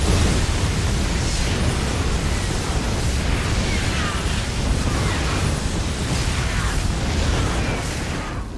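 Hellions from StarCraft 2 attack Archons, a dense, constant roar of flame and energy blasts that holds at one loud level throughout, with no talking.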